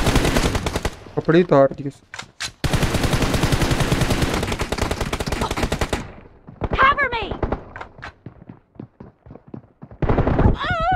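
Gunfire in the PUBG mobile battle game, rapid bursts of automatic fire in several loud volleys separated by short gaps, with single shots near the end and a voice talking between bursts.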